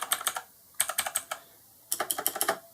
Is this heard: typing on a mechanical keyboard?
yes